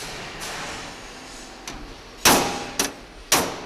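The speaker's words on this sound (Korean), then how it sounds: "여기저기 망치질에 여념이 없다" Hammer blows clang against a metal safe in a safe factory, a few sharp ringing strikes at irregular intervals after a quiet start, loud and close with faint workshop background.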